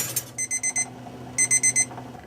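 A kitchen egg timer rings in two quick bursts of rapid, high electronic beeps, about five pulses each, with a short pause between bursts, timing eggs being hard boiled.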